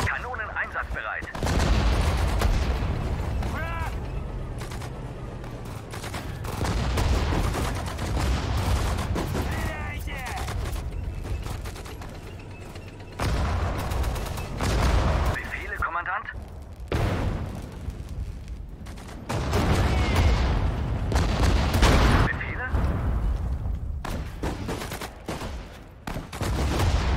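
Heavy gunfire and booming cannon blasts from the PC game Sudden Strike 4 rattle on and off in dense bursts, with shouted German voices mixed into the battle noise.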